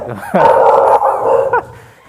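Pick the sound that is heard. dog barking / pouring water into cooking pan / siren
dog barking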